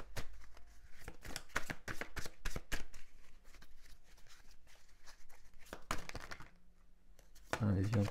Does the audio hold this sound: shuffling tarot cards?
yes